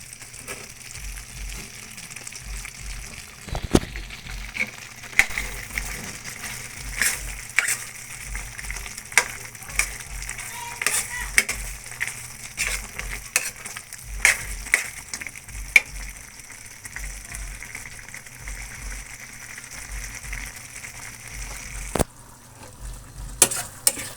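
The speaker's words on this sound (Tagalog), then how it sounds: "Haluin natin ng maayos kasi hindi ko siya mahalong masyado eh" Binagkat mixture with sugar stirred steadily in a pan, a continuous soft sizzle and frying hiss broken by repeated scraping and knocking strokes of a spoon, close and moderately loud throughout with no talking.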